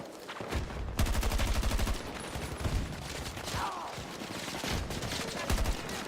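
Battlefield 6 gunfire in a battle royale match, several sustained bursts of rapid automatic shots with short gaps between them, loud and close, mixed with scattered single shots and some background game noise.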